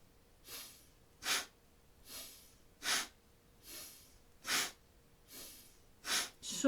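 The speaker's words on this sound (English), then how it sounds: "you're going to inhale and exhale." Steady yoga kriya breathing, with rhythmic inhales and exhales alternating about every 0.8 seconds. Each breath is a close, airy nasal rush. There is no talking.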